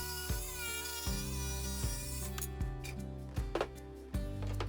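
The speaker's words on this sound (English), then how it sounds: "you can get the same job done just as well with a jigsaw" Jigsaw cutting a wooden arch for a bookcase, a quiet, steady buzzing drone broken by a few soft bumps and knocks as the blade moves through the wood.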